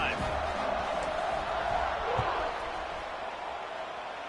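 A football stadium crowd roars in a steady, dense wash of cheering that holds loud throughout and eases slightly toward the end, with a commentator's voice mixed in.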